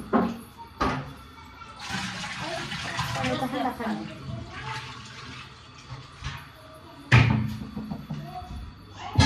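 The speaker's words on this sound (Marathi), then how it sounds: "हा आणि इकडं पाईप लावूनच भरू सगळं" Water from a pipe running into household containers and a storage pot, a rushing splash with shifting pitch as vessels fill, broken by clunks and a loud knock, while people talk nearby.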